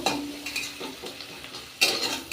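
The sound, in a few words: leafy greens frying in oil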